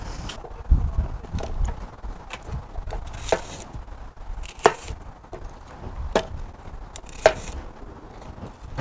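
Fresh apples being chopped into smaller pieces before crushing for homemade cider: a series of sharp knife-on-board chops at irregular intervals, close and fairly quiet, with no voices.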